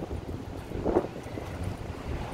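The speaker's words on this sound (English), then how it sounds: "It's a little bit windy right now" Wind blowing outdoors on a downtown Chicago street, a low rumbling buffet of gusts against the microphone, steady and moderately loud with one brief stronger swell.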